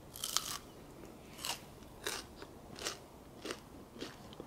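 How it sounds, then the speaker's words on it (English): Six crisp crunchy bites into a no-bake peanut butter and jelly rice crispy treat, each a sharp close crackle spaced about half a second to a second apart over a quiet background. "Now let's hear the crunch and how it tastes."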